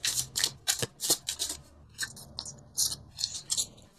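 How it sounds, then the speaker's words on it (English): Tarot cards are shuffled and pulled from the deck in a rapid series of crisp, close riffling and snapping sounds, uneven in rhythm, with no talk. "I'm going to pull 2 more cards for you"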